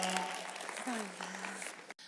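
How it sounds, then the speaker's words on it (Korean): Audience applause after a dance performance on a televised stage show, a steady wash of clapping for about two seconds with voices and tonal sounds mixed in, ending in an abrupt cut. "다시 한번 뜨거운 박수 부탁드리겠습니다"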